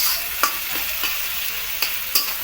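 Onions and tomatoes fry in a wok for a spicy mutton dish, giving a steady, close sizzle with a few sharp spatula scrapes and clicks as they are stirred.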